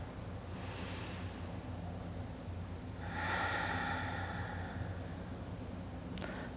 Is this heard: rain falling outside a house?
no